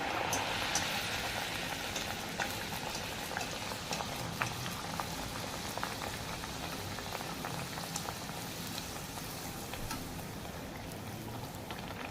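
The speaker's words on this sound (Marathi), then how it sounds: "आता आपण ते तळूया तेल गरम झालं आहे का बघूया तेल छानपैकी गरम झालं आहे" Hot oil heating in a pan before frying Mangalore buns, a steady, even bubbling hiss that stays level throughout, close and unaccompanied by talk.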